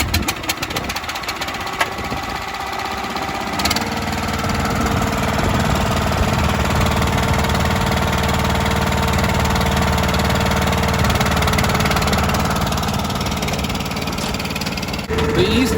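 The engine of an Eastonmade Axis log splitter idles while warming up, a loud, steady, rumbling drone close by that holds throughout with a slight shift in tone early on.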